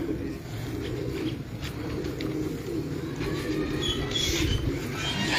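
Breed pigeons cooing on a rooftop in Sialkot, soft repeated coos close by over a low hum of outdoor background noise, with a few faint chirps.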